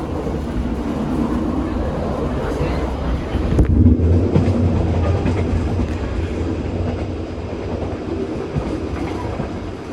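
A train rolls steadily along the rails with a continuous rumble and faint clatter, heard from inside a passenger carriage of the Tawang Alun train in Indonesia, with a brief louder surge midway.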